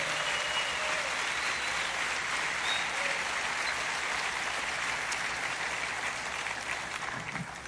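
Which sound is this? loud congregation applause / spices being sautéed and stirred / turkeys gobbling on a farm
loud congregation applause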